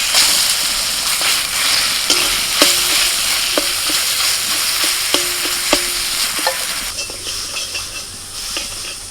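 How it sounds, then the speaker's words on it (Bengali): Ground pea lentil paste seasoned with salt, cumin and chili powder fries in hot oil, giving a steady loud sizzle and hiss with a few stirring clicks, fading slightly toward the end. "গরম তেলের মধ্যে ডাল মাটাটা দিয়ে দিচ্ছি"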